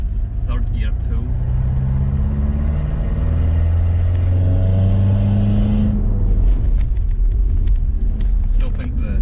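A Mitsubishi L200 K74 diesel pickup fitted with a boost controller pulls hard in third gear. The loud, close engine drone climbs steadily in pitch for about six seconds, then drops away as the throttle lifts, leaving quieter rattles.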